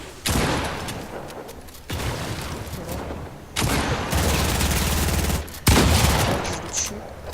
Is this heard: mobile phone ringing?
no